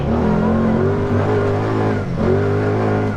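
A 2019 Kawasaki Teryx4 LE side-by-side UTV pulls hard at full throttle, its engine droning loud and steady from inside the vehicle, with a brief dip in pitch like a shift before it climbs again.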